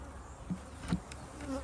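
A steady swarm hum of honey bees fills a cow pasture apiary, close and continuous, with a few individual bees buzzing past nearby.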